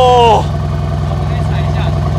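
A 63 car with its stock exhaust fires up, a brief falling whine dropping into a steady, loud, deep idle hum.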